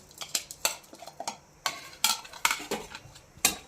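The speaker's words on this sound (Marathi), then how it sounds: "ही गरम तेलात मी परतून घेणार आहे शेंगदाणे तळलेल्या तेलात ही चटणी परतून घ्यायची" Solapuri chutney, fried peanuts among it, is stirred in hot oil in a pan, giving a run of sharp metallic spoon scrapes and clinks at an irregular pace, close and fairly loud with no voice.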